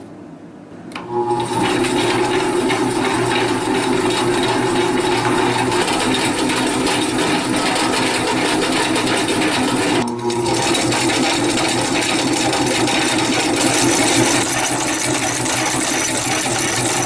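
An electric motor drives a converted hand-crank meat grinder through an adjustable belt, a loud steady whirring hum that runs continuously with a brief dip midway.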